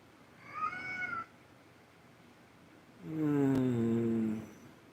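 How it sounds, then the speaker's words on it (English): A hungry cat meows twice, close and fairly loud, a short cry followed after a pause by a longer drawn-out wail, with no talking around it. "cats make those noises when they're hungry."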